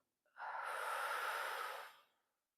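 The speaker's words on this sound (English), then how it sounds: "Take a deep breath in and a deep breath out." A single deep yogic breath during a slow mindful session, one long airy exhale lasting nearly two seconds, close and soft, rising quickly then fading away into silence.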